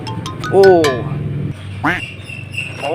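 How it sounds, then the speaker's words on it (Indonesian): A pull-along toy duck gives a few loud electronic quacks, two bursts close together then one more, with a child-oriented speaking voice around them. "Bebek kita mana ya? Kita coba tarik teman-teman bebeknya."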